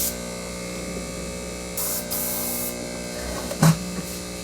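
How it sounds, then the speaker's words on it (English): An airbrush driven by a small compressor spraying Tamiya chipping liquid onto a model, a steady electric motor hum with a faint hiss, plus two short louder bursts of spray, close up and without speech. "I've loaded up the airbrush. Just going to hit our little compressor here."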